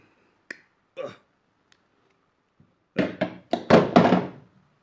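A metal pin pops out of a part on a 1963 Cub Lowboy tractor, heard as a couple of sharp, close clicks and knocks followed by a cluster of louder metallic thunks.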